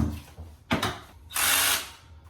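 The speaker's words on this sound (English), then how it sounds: "make our drill holes" A power drill whirs in two short bursts, the second longer and higher-pitched as it bores holes into a wood window frame for curtain rods, close by.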